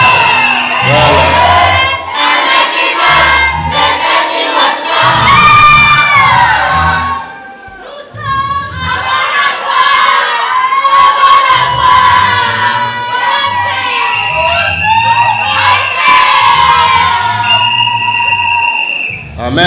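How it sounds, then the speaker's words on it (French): A church congregation shouts and cheers with joy during a French-language worship service, a loud, sustained crowd roar with whoops and high cries, briefly dipping before swelling again. "Dans la maison de Dieu, il faut taper les mains, pousser des cris de joie."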